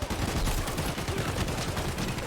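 Rapid gunfire from a firefight in Escape from Tarkov fills the whole stretch, dense overlapping shots forming a loud continuous clatter with no pauses.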